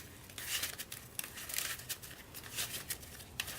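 Yu-Gi-Oh trading cards are shuffled into a deck by hand, a quiet, close run of papery riffling and flicking bursts repeating throughout.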